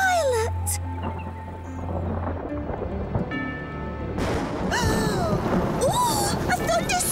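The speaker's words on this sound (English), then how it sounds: "Oh, a thunderstorm!" Thunder rumbles through a summer thunderstorm, a steady low roll of storm noise over several seconds with animated character voices talking and exclaiming over it and music playing in places.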